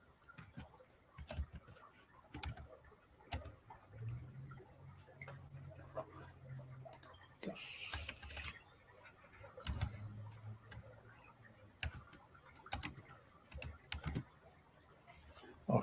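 Computer keyboard typing in bursts of close, sharp key taps with pauses between them, over a faint background hum and a brief higher hiss midway; no speech.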